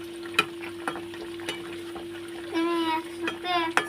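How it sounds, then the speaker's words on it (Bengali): Dhokar dalna curry with ghee being stirred in a pan, heard as a few sharp spoon scrapes and clinks over a low steady bubbling, with a short burst of louder sizzle near the end. "একটু ঘিও দিয়ে দেবো দিয়ে এটাকে নাড়িয়ে দেবো একটু হালকা হাতে নাড়বে যাতে ধোকাগুলো না ভেঙে যায়"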